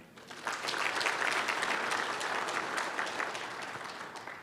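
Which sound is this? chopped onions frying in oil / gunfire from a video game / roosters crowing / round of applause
round of applause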